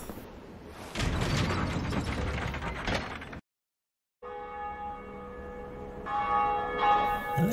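A large bell in Dark Souls Remastered tolls with a heavy struck clang and a long ringing decay, breaks off into brief silence, then resumes with sustained metallic overtones.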